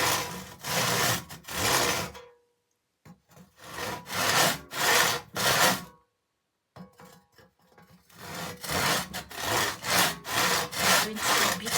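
A hand saw cuts through wood in loud, close, rhythmic bursts of rasping strokes, with two short pauses between sawing runs.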